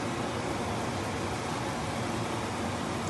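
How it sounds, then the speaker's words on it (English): An electric fan runs in a kitchen during cooking, a steady even broadband whoosh with no change in level and no voices. "Sorry about that fan, I didn't realize it was so loud."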